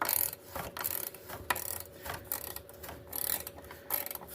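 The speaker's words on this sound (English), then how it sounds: "it's actually ratcheting pretty well." Rusty, corroded ratcheting wrench clicking on a bolt of a Harley Softail motorcycle, a dense run of quick ratchet clicks in uneven bursts, close up with no talking.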